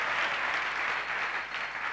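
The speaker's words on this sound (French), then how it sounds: "Vous pouvez applaudir si vous voulez applaudir." Church congregation applauding during a sermon, a steady wash of many hands clapping at moderate distance with no talk over it.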